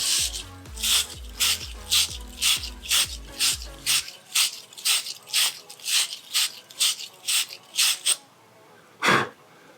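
A one-inch fitting brush scrubs the inside of copper pipe fittings in quick, rhythmic rasping strokes, about a dozen of them, close and fairly loud, with a mechanical rattle under the first few strokes.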